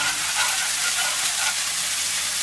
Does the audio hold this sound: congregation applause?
no